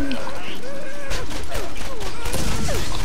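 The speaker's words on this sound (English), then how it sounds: "I'm trying to suppress fire, but I'm not doing very well" Rapid gunfire from the video game Borderlands rattles continuously under loud, constant game noise, while someone talks over the action.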